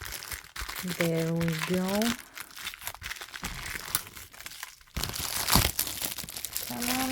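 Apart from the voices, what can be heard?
peeling tape off a taped Barbie doll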